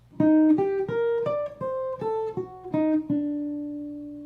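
A plucked guitar plays an ascending arpeggio, eight clear notes stepping upward at an even pace, the last note left ringing out.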